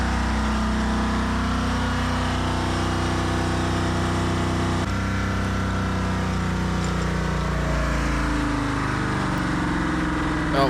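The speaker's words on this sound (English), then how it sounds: "Runaway diesel, runaway diesel. It's running away." A diesel bus engine that has sat for ten years runs away, roaring loud and unbroken at high revs with a steady harsh drone that shifts in pitch partway through and keeps going throughout.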